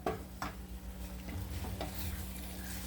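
A quiet, steady bubbling and sizzling from masala simmering in a pan over medium flame on the stove, with a faint low hum and a few soft scraping clicks.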